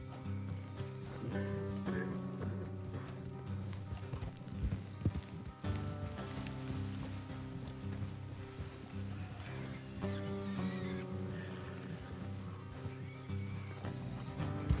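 Steady clip-clopping of horse hooves runs throughout, with occasional whinnies and snorts over a dense background of game music and ambience, from the video game Red Dead Redemption 2.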